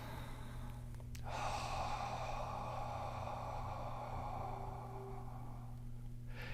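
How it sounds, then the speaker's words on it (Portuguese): A person taking a single slow, deep breath, a soft airy inhale swelling and fading against a quiet room hum, close to the microphone with no talking. "quando eu faço uma respiração profunda"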